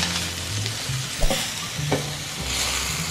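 Shimeji mushrooms sautéing in olive oil in a pan, a dense continuous sizzle with a couple of soft knocks and stirring scrapes, close and fairly loud.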